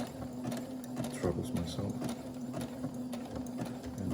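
A domestic sewing machine stitches a repair on old underwear, with a quiet, rhythmic mechanical whirring and clatter that runs under a person talking close by.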